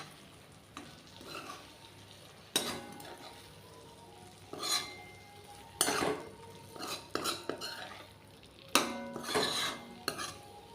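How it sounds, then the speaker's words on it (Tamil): A spoon scrapes and clinks against a pan as idli pieces are tossed into a sizzling masala, with sharp irregular stirring strokes over a soft, steady frying hiss. "மசாலாவில் இட்லி நம்ம போட்டோம் நல்லா அதில் பரட்டி விட்டுக்கலாம்"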